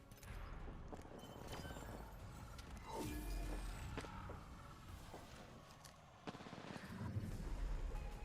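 A minigun in a video game fires in long, continuous bursts, loud and dense, with blasts and gameplay noise layered throughout and no talk over it.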